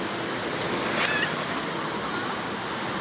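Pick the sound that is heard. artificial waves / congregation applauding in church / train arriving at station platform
artificial waves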